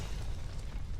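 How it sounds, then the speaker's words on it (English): A video-game explosion from Aviary Attorney rolls out as a loud, steady, low rumbling boom that fills the brief moment alone. "An explosion. It sounded like it came from right outside."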